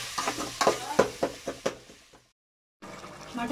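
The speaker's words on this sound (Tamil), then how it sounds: "இப்போ வந்து சாணம் வந்துட்டு மட்டன் கிரேவி செஞ்சுட்ருக்கா." Mutton gravy cooking in a pan, a series of rhythmic stirring knocks and scrapes over a soft sizzle, broken by a brief silence before the sizzling resumes.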